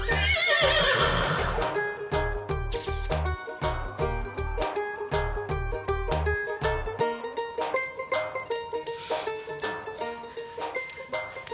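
A horse whinnies loudly at the start, a wavering high neigh, followed by steady rhythmic music with a thumping beat.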